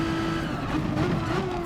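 A race car engine in the PS4 racing game GT Sport, revving hard with a steady, loud, close whine whose pitch climbs slightly and wavers throughout, with no voices.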